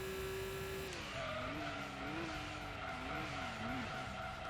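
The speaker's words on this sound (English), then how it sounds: "So you actually have to slide the car to get the gold." A car slides through a corner in the racing video game Gran Turismo 2, with a sustained wavering tire squeal over steady engine drone, fairly faint and continuous, no voices.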